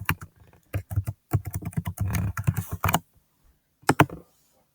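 Keystrokes on a computer keyboard as a username and password are typed into a login form, a close, rapid run of clicks in bursts with short pauses, then a final pair of taps after a gap.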